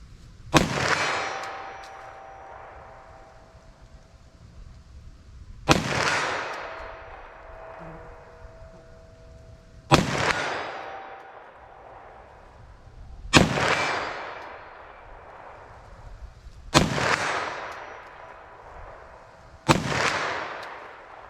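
Six Sig Sauer pistol shots, .45 ACP and .357 Sig rounds, ring out at a range, each a loud sharp bang spaced several seconds apart with a long echoing decay.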